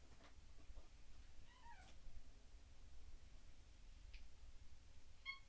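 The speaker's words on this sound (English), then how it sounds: "Did you hear my kitty meow just now?" A pet cat gives a couple of faint, short meows in a quiet room while someone sketches, one early and one near the end, with brief soft ticking sounds.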